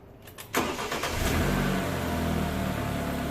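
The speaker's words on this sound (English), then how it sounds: "Now all we do is start her up and let her idle for 15 minutes." A 2014 BMW 328i engine cranks briefly, catches with a loud roar, then settles into a steady, close idle after an engine flush and oil change.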